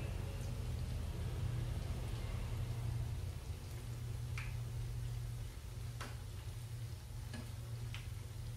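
Tofu-and-chicken sempol deep-frying in hot oil sizzles quietly and continuously under a low hum, with a few sharp pops and crackles scattered through it.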